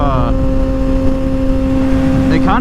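A tuned 2023 Kawasaki ZX-6R sport bike engine runs close by with a steady, loud mechanical drone, climbing into a quick rising rev near the end.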